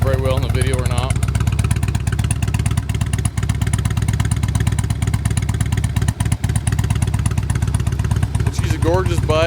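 A Harley-Davidson Road King Classic with a windshield idles close by, a loud, steady low engine rumble with a faint clatter running throughout, with no talking.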